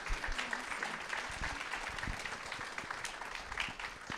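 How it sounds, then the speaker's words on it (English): Steady applause from an audience at a Rare Disease Day event, dense clapping sustained throughout at moderate volume with no speech over it. "I just want to give, again, all of the speakers a round of applause"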